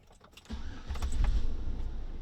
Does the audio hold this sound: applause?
no